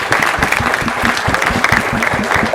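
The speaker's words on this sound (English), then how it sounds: "Big round of applause, please, for our filmmakers." A theatre audience at a film festival short-film screening and Q&A gives dense, sustained applause for the filmmakers, many hands clapping together loudly and evenly throughout with no voices.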